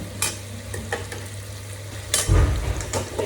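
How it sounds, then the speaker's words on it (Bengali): Potatoes frying in a wok for a fish and bottle gourd meal, a close sizzle with a low hum beneath and a few stirring scrapes, the loudest burst of spatula clatter near the end. "আলুটা একটা ভাজা হয়ে গেছে আর একটু ভাজা দিয়ে হয়ে যাবে"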